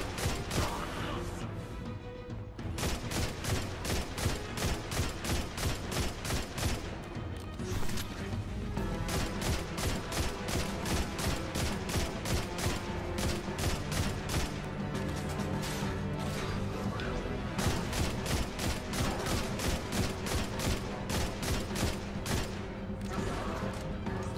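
Rapid, loud gunfire from the shooter game Destiny 2 rattles in dense bursts of sharp repeated shots, broken by a couple of brief pauses early on before continuing steadily to the end.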